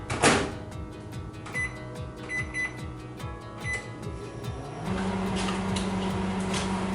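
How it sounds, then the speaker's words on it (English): Microwave oven cooking mochi in a bowl, a steady mechanical hum with rhythmic clicking and rattling of the turntable, stepping up to a louder, even drone partway through, with no talking. "then you place the bowl into the microwave oven."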